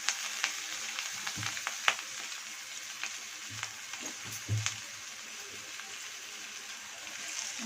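Fish pieces fry in masala in a pan for a Godavari-style fish curry, giving a faint, steady sizzle with occasional soft pops and light knocks, heard up close with no voices.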